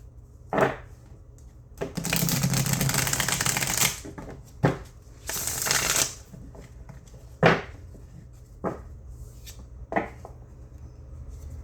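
Tarot cards riffle-shuffled close up in two long bursts, followed by sharp taps and clacks of the deck being squared.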